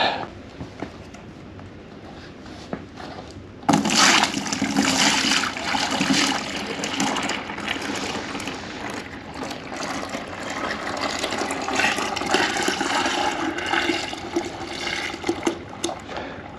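Clear ballistic gel pours in a steady, rushing stream that starts abruptly after a few seconds of quiet and keeps flowing, with light splashing throughout.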